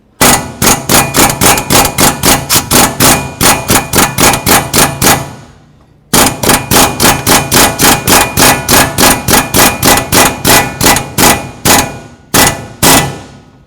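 Rapid, evenly spaced metallic tapping with a hammer against the steering shaft where it joins the power steering rack of a 2007-2014 Cadillac Escalade, two long bursts of loud, close blows separated by a short pause.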